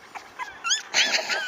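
A puppy whimpers close by in a short run of high, thin whines and yips, rising and falling in pitch over a second or so.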